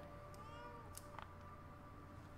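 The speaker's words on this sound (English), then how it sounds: "Let's talk with our little kitty cat." A small cat meows in the video game Lies of P, a few short, faint calls rising over a steady game background hum.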